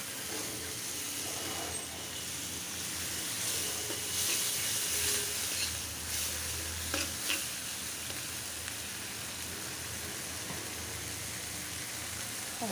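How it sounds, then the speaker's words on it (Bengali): Spices with softened tomato sizzle and fry steadily in a pan for a koi fish curry, a continuous low crackle with faint stirring scrapes throughout and no talking. "টমেটোটা একটু গললে পরে মশলাটা কষানো হবে।"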